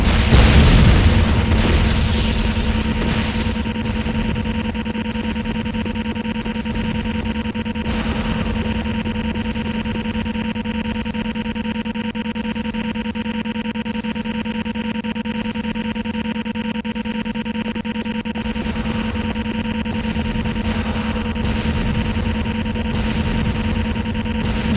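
Explosions and dense battle noise from a base under attack in the video game Renegade, with GDI structures such as a Tiberium Refinery and infantry barracks taking fire. A loud burst opens, then a steady roar of continuous combat sound persists throughout.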